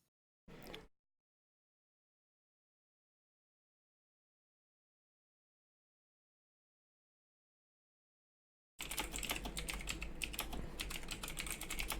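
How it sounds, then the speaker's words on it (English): Quick keystrokes on a computer keyboard, first as a brief burst and then, after a long silence, as a steady, dense run of clicking typing near the microphone. "Oh God, you're typing."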